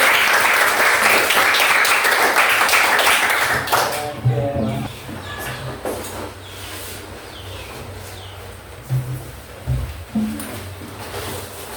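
A classroom of students at an Indonesian school claps together in a brisk burst for several seconds, then it fades into scattered taps, thumps and low chatter.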